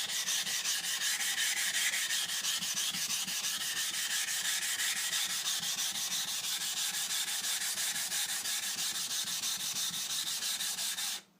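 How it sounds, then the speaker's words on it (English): A 10,000 grit sharpening stone is rubbed back and forth on a 220 grit stone to flatten it, a loud, steady gritty scraping in quick even strokes for about eleven seconds before it stops. "I mean, flatten the sharpening stone."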